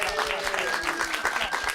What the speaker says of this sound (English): Everyone give her a round of applause, please